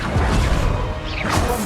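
The Confringo fire spell blasts in the video game Hogwarts Legacy, a dense, loud crashing burst with a whooshing sweep running through it, continuous and close for under two seconds.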